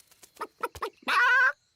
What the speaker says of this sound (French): La poule vient de pondre un œuf.